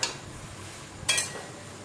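Chopped ghatkol (kharkol) leaves with water and salt get stirred in a wok, giving a faint soft scrape followed by one brighter metallic scrape of the utensil against the pan.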